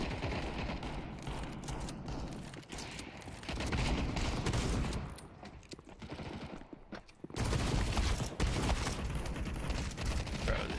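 A shotgun fires repeatedly in a video game, with loud close blasts at uneven intervals and a brief quieter lull before the shooting picks up again.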